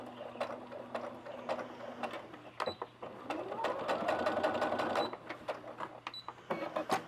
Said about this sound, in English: I'm going to do a back stitch when you get to the end.